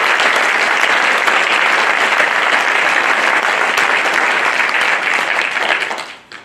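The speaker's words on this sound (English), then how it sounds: "Please join me in thanking them with a round of applause" Audience applause at a National Honor Society induction ceremony, thanking the custodial staff and advisors: a dense, loud, steady wash of many hands clapping that holds for about six seconds, then fades out quickly at the end.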